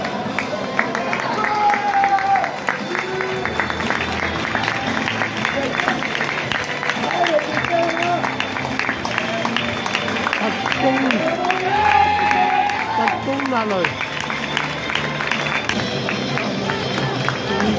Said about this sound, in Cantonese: 皆様、大きな拍手でお迎えください